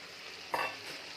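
Prawns and potatoes sizzle in a pan for an Odia-style prawn masala curry, a close steady frying hiss with one brief louder burst of crackle as the ingredients are stirred.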